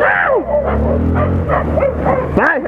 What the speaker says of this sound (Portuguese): Um monte de cachorro do diacho me rabando!